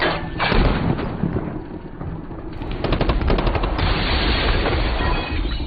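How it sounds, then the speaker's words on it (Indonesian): In a film scene, FBI agents fire on a fleeing car: rapid, loud automatic gunfire bursts and volleys rattle continuously, with the car's engine roaring beneath them. "Randazzo tancap gas menghindari tembakan dari FBI yang terus membabi buta menembaki."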